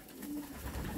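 Pigeons coo softly and close up while being hand-fed barley and loose seeds. The low, brief coos come through light background noise.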